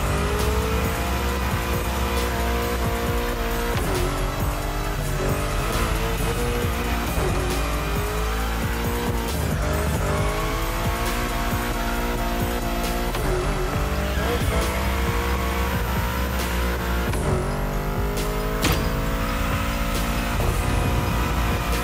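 A car in The Crew Motorfest drifts through bends, with tire squeals rising and falling over a constant roaring engine that revs and shifts throughout, with no talk.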